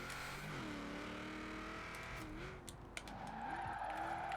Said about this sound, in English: Quite easy to drift as well